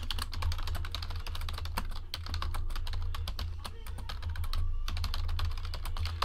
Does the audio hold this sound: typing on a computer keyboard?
yes